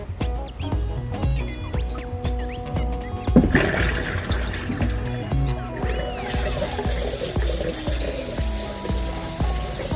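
Tap water runs into a sink while a hot thermometer is rinsed under it during homemade yogurt making, with faint clinks first and then a louder, steady rushing stream that carries on to the end.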